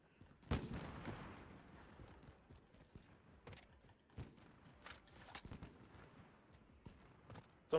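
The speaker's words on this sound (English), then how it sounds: "Someone else shooting close." Gunfire in the Call of Duty Warzone video game: scattered shots and heavier thuds crack out at irregular intervals, fairly faint and somewhat distant, over a low game background with no talk.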